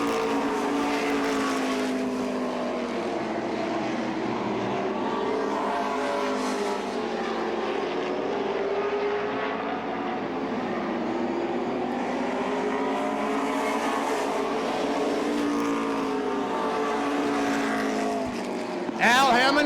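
Race cars at the 2003 Oxford 250 asphalt oval race roar past steadily, a continuous loud engine drone with rising and falling pitch as cars pass, under occasional talk.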